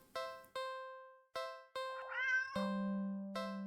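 Cat meowing in a video game, a string of short close tonal meows and a longer rising cry, played clearly with no talking.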